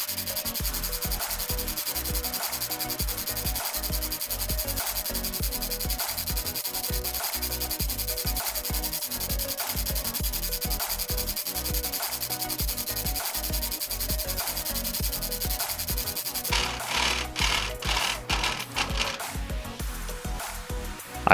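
An Atlas MFC milling machine cuts a workpiece at a slow 400 thousandths per minute feed, giving a steady, loud grinding rasp with a regular rhythmic chatter that turns rougher and more pulsing near the end, with no voices.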